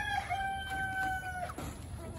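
A rooster crows once with a long drawn-out call, backed by low farmyard rumble and faint hen clucks.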